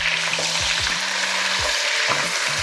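Chili con carne meat sizzling loudly over high heat in a pan, with steady frying hiss and a few scraping stirs of a utensil breaking it up, close and alone without speech.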